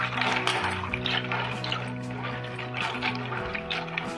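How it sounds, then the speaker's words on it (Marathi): Peanuts washed in water, with continuous splashing and trickling close by, steady and moderately quiet throughout under a faint background hum. "हे शेंगदाणे आपण पाण्याने स्वच्छ धुवून घेऊ।"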